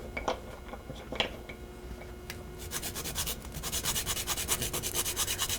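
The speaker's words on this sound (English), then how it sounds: "I'm going to grate some nutmeg in there." Whole nutmeg grated by hand for a smoked salmon ravioli filling: a few faint taps at first, then a steady, rhythmic rasping scrape that grows louder and more regular, close up with no talking.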